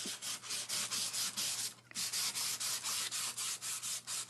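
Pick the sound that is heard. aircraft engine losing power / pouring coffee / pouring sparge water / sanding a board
sanding a board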